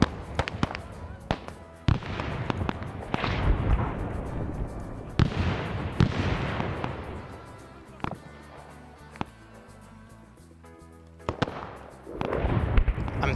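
Booming bursts of artillery fire in a Vietnam war video game, a run of heavy blasts and crackling impacts at varying distances, with a voice talking over parts of the barrage.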